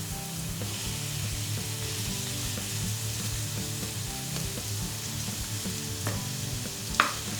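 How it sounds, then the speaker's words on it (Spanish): Garlic frying in a little oil in a pan, with onion added later, a steady low sizzle and crackle that runs unbroken for several seconds, close and moderately quiet, ending in one sharp clink. "En una sartén con un poco de aceite empezamos por poner el ajo."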